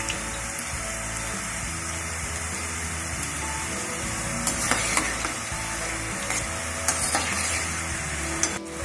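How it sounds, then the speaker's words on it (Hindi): Shakarpara dough pieces fry in hot oil over a medium flame while being stirred, giving a dense, steady sizzle with occasional scraping clinks from the spoon, close and continuous with no talking. "कंटिन्यू चलाते हुए इनको तल लेंगे जब तक ये हल्के ब्राउन ना हो जाएं"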